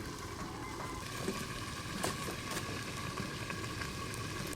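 Mutton curry with potatoes simmering in a covered pot, giving a steady close bubbling and sizzling hiss that stays even and continuous throughout, with no voices.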